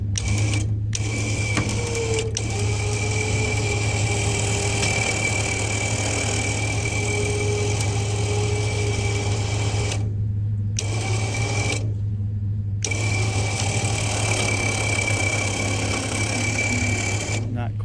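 Winch strains to pull an abandoned 1970 Oldsmobile Toronado, its motor a continuous loud droning whine with a steady low hum beneath, broken by a few brief stops.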